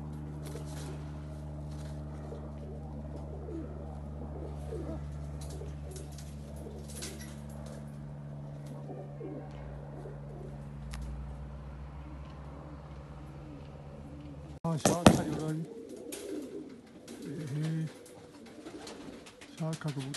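Paired pigeons at a loft, a seven-box pigeon and a white hen with black eyes, coo softly under a low steady hum, and a loud burst of handling noise comes near the middle.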